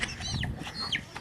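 A rooster clucks in short, close calls during a rooster fight, with two quick rising-and-falling cries and no talk over them.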